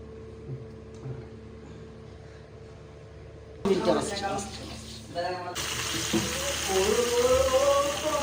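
Cooking oil heating up for frying, first a faint low simmer under quiet background talk, then louder crackling and sizzling bursts that settle into a steady, bright hiss as the oil gets hot.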